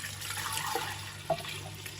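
Water poured into a pot of soaked dal for a simple home dinner, a steady soft rushing pour with a small splash partway through, no talk over it.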